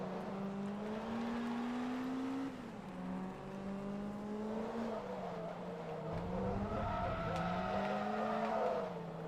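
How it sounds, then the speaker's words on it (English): Engine note of a car in Forza Motorsport 2 drifting with tires squealing, a steady loud revving tone that rises and dips as the car slides through corners, with no talk. "God, this car just wants to drift."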